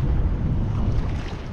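Small shrimp trawling boat's motor running on the bayou in Bayou La Batre, Alabama, a loud continuous low rumble mixed with wind and water noise.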